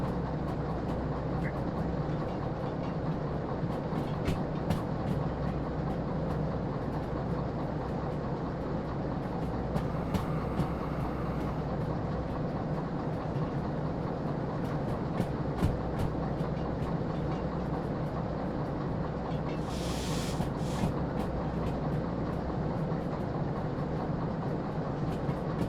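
Freight train of bogie wagons rolling along tight lines, a continuous rumbling roll with rhythmic wheel clicks and rattles, steady and fairly close, with a faint voice briefly in the background.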